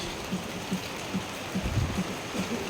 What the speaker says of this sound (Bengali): দেখো কিভাবে বৃষ্টি হচ্ছে কিছুতেই কমছে না